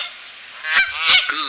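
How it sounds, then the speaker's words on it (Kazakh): A goose gives a few loud, nasal honks close by, two or three short raspy calls in quick succession. "Goose."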